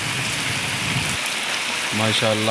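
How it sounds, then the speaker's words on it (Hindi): Rain falls steadily as a constant broadband hiss through the whole stretch, with a person speaking briefly over it near the end. "ज़बरदस्त बारिश होगी। यानी इतनी ज़्यादा तो नहीं हो रही, तो अभी तो हो रही है ना।"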